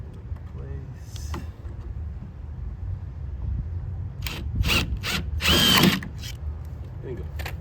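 A power drill drives screws into a camo-edged deck board, with a few short whirring bursts and a longer final run, close by, alongside faint handling noise and brief voice sounds.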